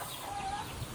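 A chicken clucks softly and steadily in a pen, a faint continuous cackle lasting about a second amid background noise.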